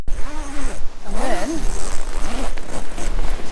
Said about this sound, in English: it literally just zips straight on.